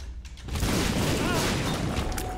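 Cluster bombs going off in The Binding of Isaac: Afterbirth+, a loud dense rumble of overlapping blasts that starts abruptly and holds steady, close and full, with a voice talking beneath it.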